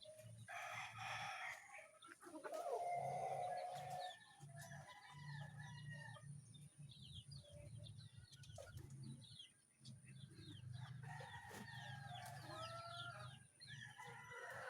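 Backyard chickens clucking close by, with a rooster crowing loudly early on and other birds chirping in the background, against a low steady hum.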